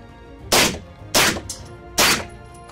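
Three evenly spaced suppressed 9mm shots from a B&T GHM9 carbine ring out close and sharp, each a short crack with a brief tail, with no voices.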